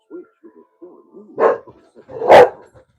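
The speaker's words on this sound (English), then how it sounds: "Sorry about my dogs." Dogs bark in a few sharp bursts indoors, with two loud, close barks following softer yips and whimpers; a faint voice may be mixed in.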